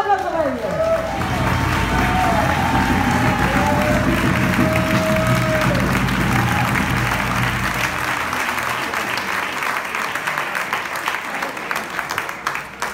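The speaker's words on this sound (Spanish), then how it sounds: "Un aplauso para ellos." An audience at a republican festival proclamation applauds the Orquesta Ventolín, with sustained loud clapping and crowd noise. Voices and some drawn-out tonal sounds are heard early on before the applause carries through alone.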